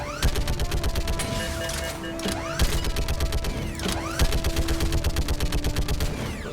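Rapid turret gunfire from Mass Effect 3, dense continuous bursts of shots with sharp repeated transients and occasional heavier impacts, loud and close with no speech.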